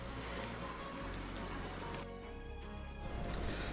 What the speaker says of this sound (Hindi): देखे कितनी खतरनाक बारिश हो रही है।